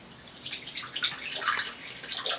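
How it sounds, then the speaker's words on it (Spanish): Coconut water pours into a blender jar in a steady splashing stream that runs unbroken for a couple of seconds, close by, with no voices. "vamos a poner el agua de coco"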